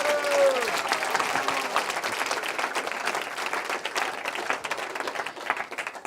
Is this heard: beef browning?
no